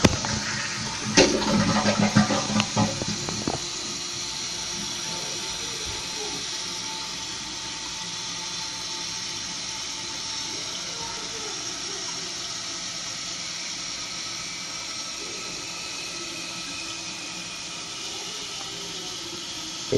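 A 2012 Kohler Wellworth toilet flushes with a loud, close rush of water for a few seconds. The tank then refills with a steady, hissing trickle that carries on to the end.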